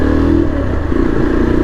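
A 2024 Yezdi Adventure motorcycle engine runs loud and close, its revs dipping briefly mid-way as if through a gear change before climbing again, with no one speaking.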